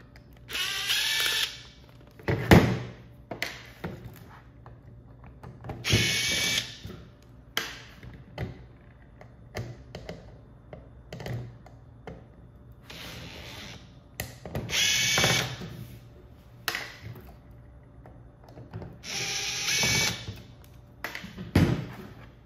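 A power driver backs screws out of a Dolby conference speakerphone during a teardown, in repeated short whirring bursts separated by pauses, with light handling taps and clicks between them.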